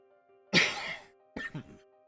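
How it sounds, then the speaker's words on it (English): Two short bursts of coughing close to the microphone, a harsh first cough followed by a quieter, broken second one after a brief pause. "I have the coughs in my throat for some reason as soon as I started recording."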